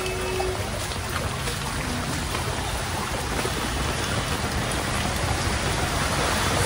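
Heavy rain pours down in Mumbai, a loud, dense and unbroken hiss of drops drumming on surfaces that lasts throughout.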